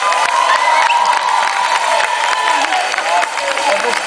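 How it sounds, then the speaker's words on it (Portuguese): A crowd at a live folk music show with accordion claps and cheers for a young boy called up to the stage, loud and close, with whoops and shouting voices mixed in over a sustained instrumental tone. "Uma salvinha de palmas para ele."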